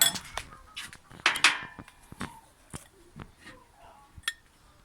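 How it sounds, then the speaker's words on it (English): A spoon stirs flour, dandelion petals, salt and baking powder in a mixing bowl, making irregular close clinks and knocks against the bowl with short scrapes between them. "Use my spoon to help. And give all your dry ingredients a good stir."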